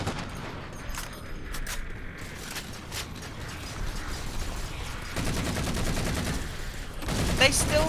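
Covenant carbine fire in the Halo 4 video game, with rapid repeated shots and mechanical clatter in a dense battle mix that continues and intensifies toward the end.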